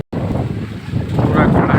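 Strong wind blows ahead of a storm under dark monsoon clouds in Kalahandi, roaring loudly and buffeting the microphone continuously, growing stronger toward the end.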